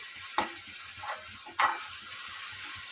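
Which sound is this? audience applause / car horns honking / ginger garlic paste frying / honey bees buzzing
ginger garlic paste frying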